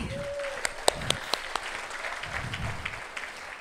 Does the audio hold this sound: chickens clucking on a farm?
no